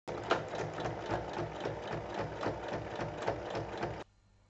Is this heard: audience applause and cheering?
no